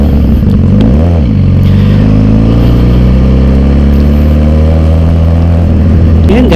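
A Suzuki GSX-R1000 sport motorcycle engine revs loudly up close, pitch climbing and dropping through a couple of throttle blips over a steady heavy rumble.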